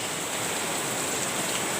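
Rain falls steadily in a dense, even hiss, close and constant throughout with no talk over it.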